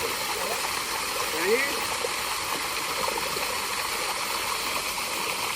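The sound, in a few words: tube well water gushing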